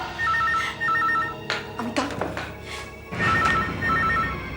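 A telephone rings indoors in a tense TV drama scene, its electronic trill repeating in short bursts between pauses, loud and close, with muffled movement and a few sharp knocks in between.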